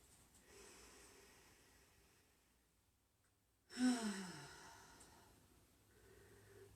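A single deep cleansing exhale during a slow morning yoga flow in child's pose, a soft breathy rush that swells suddenly and trails off after a quiet stretch, close and fairly faint, with no talking.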